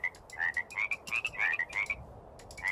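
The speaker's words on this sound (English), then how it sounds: "What is eating my frogs, guys?" Frogs croaking in a Minecraft zoo and wild animals mod, a rapid run of chirpy repeated croaks in quick bursts, fairly close and clear with no talking.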